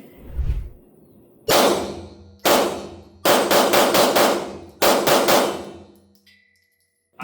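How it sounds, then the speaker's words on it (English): Laugo Arms Alien handgun fired at a steel plate 20 yards downrange, about six sharp, loud shots, some in quick pairs, each followed by a ringing metallic clang that decays into a quiet pause. "Let's shoot another mag."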